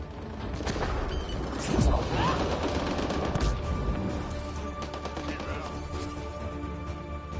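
Combat in Mass Effect Andromeda on Kadara, with a burst of gunfire and a grenade blast marked by sharp thumps and a heavy impact near the two-second mark, then lingering debris and noise.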